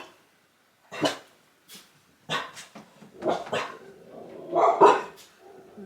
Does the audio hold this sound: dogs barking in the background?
yes